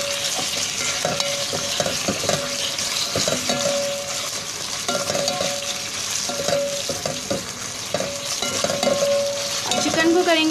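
Chicken frying in oil with lightly sautéed onions, a continuous close sizzle with repeated scraping and stirring clatter from a utensil against the pan.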